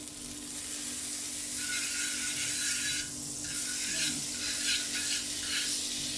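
Food frying in butter in a pan for pav bhaji, a steady close crackling sizzle with faint scraping, continuous at low to moderate level with no talk.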